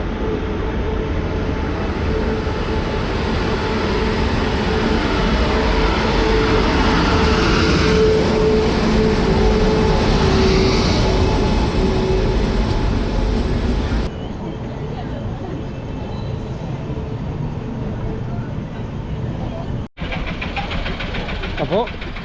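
A train pulls into a railway station with a loud, continuous rumble of engine and wheels that fills the whole stretch, then the sound abruptly shifts to a thinner, lighter noise partway through.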